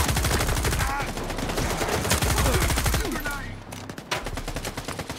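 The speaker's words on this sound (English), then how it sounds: "I'm shooting." Rapid automatic gunfire from the video game Stalker 2: Heart of Chornobyl, with loud sustained bursts that hammer on for several seconds before tapering into scattered shots.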